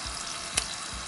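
Chiacchiere pastry dough, the cocoa variety rolled extra thin, frying in hot oil with a steady bubbling sizzle and one brief louder pop midway.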